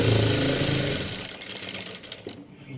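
A sewing machine runs close by, stitching darts in fabric, with a brief steady motor whir that winds down after about a second into faint scattered mechanical ticks and handling sounds.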